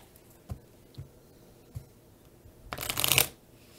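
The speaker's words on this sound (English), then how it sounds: "we're shuffling for the first time" Playing cards are shuffled for the reshuffle deck during a tabletop play-through of Aliens: Ultimate Badasses: a few soft taps and slides, then one loud, close riffle burst near the end, with no speech.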